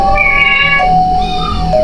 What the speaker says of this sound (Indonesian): mereka mendengar suara eongan kayak kucing gitu